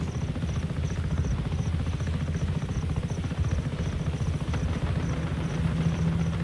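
Helicopter in the video game Just Cause 3 gives a steady, dense rotor and engine drone that holds at an even loudness throughout, with no one talking.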